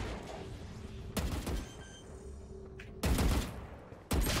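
Gunfire in the video game Valorant: a few sharp bursts of shots cutting in at intervals over a quiet game-sound background, each burst loud and abrupt.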